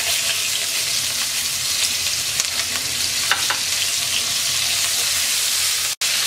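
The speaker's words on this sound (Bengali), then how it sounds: "পেঁয়াজটাকে হালকা ভেজে নেব।" Two medium chopped onions with whole cumin frying in hot oil in a wok, a loud, steady close sizzle with occasional stirring scrapes, broken by a brief cut near the end.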